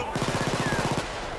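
Police gunfire in the video game Payday 2: a rapid burst of about a dozen evenly spaced automatic shots, loud and close, for roughly a second before cutting off.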